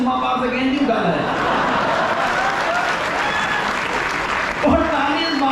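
Audience applause at a kavi sammelan poetry event at IIT Roorkee's Thomso festival: a sustained burst of crowd clapping, close and loud, with a voice speaking over it at the start and again near the end.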